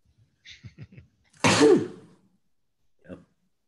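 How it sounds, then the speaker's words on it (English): A single loud, close human sneeze comes after a few quick preparatory inhales, followed by silence and a short breath. "I'm gonna sneeze."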